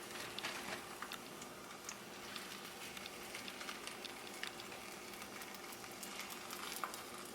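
Taco shells fry in hot oil with a steady, quiet sizzle and scattered small pops and crackles, close and continuous, with no talking.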